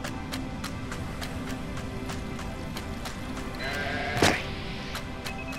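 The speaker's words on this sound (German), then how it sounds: "Was macht da ein Schaf dahinter?" A sheep in the video game Grow Home gives a single short bleat near the end, rising clearly over a steady hum of game ambience and a faint repeating tick.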